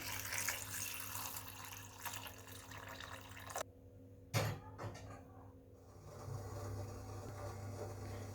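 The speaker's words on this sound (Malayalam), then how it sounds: "ഇനി കുറച്ച് വെള്ളം ഒഴിച്ച് കഴുകിയെടുക്കാം." Water poured and splashed over cut potatoes in a kitchen to wash them, a continuous running, rinsing wash that breaks off partway, then a short splash and quieter trickling.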